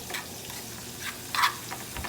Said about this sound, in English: So I'm going to let that simmer a little bit